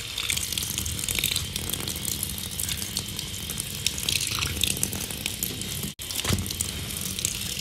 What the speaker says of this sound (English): I fully saturate him with water and I press on him to try to get the soap and the dirt out